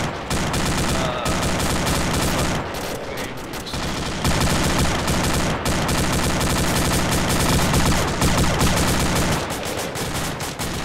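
Constant dense gunfire fills a battle in Arma 2 with overlapping automatic bursts and single shots at steady high loudness and no breaks.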